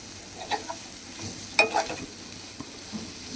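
Masala being stirred for egg fry in a hot pan: scraping spoon strokes at irregular intervals over a soft, steady sizzle, with one sharper scrape near the middle.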